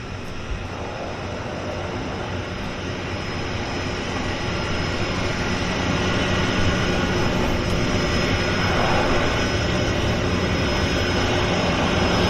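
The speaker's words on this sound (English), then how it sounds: "our Twin Otter pulling into berth right there" A Twin Otter floatplane taxiing into its berth at a float base drones loudly and steadily from start to finish, its propeller engine rumble broadband and unbroken.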